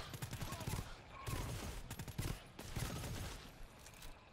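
Machine gun fire in GTFO, several loud bursts of rapid shots separated by short gaps, close and harsh, with faint voices underneath.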